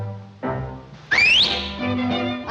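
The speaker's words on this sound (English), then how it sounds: "Why the whistle, Sizzle?" A loud cartoon whistle from a Woody Woodpecker short, a bright rising slide set over musical score and sound effects, with no speech.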